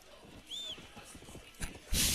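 Horse galloping in the video game Red Dead Redemption: Undead Nightmare, a quiet run of soft rhythmic hoof thuds under light ambient game sounds, with a brief whistle-like tone near the start and a louder burst at the end.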